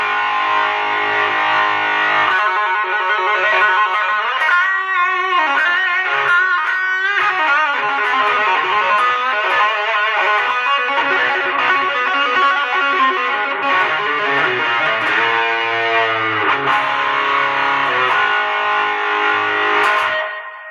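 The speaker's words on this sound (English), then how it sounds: "I think I have it set on Line 6 drive, which is basically a heavy gain amp" Electric guitar run through a Line 6 drive heavy-gain amp setting plays loud, saturated riffs and sustained distorted chords for about twenty seconds, steady and uninterrupted, fading at the very end.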